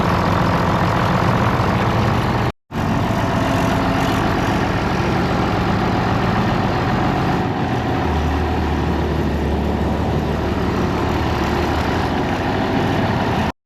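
A tractor engine idles with a steady low rumble throughout, briefly cutting out once early on, then carrying on unchanged with no talking.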